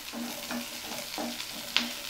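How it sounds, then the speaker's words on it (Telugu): Curry leaves and sliced onions fry in hot oil in a pan for potato pulusu curry, a soft steady sizzle with a few sharp crackles and stirring scrapes, close and unaccompanied by talk. "దీంట్లో కరివేపాకు వేసుకోండి"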